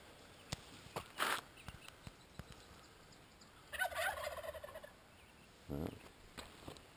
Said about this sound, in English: Just the turkeys that time.